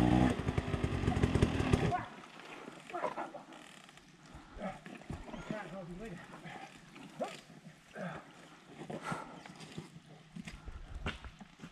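Vehicle engine idling on a long steep hill, edging into a rut: a loud rough burst at the start gives way to a steady low rumble, with voices talking intermittently over it.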